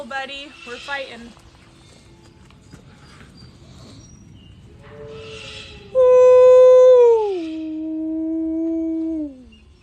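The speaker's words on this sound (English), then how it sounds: "that's a St. Bernard that's howling right now." A St. Bernard dog lets out a long, loud, sustained howl that holds steady and then drops in pitch, close by, after a stretch of quieter sounds and brief voices.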